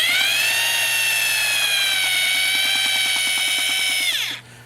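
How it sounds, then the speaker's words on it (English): A power drill fitted with a paddle mixer whirs steadily while stirring lime putty in a plastic bucket, a close, continuous high whine with rhythmic scraping that winds down at the end. "what it does is it lets me actually scrape the sides of the bucket with the paddle mixer."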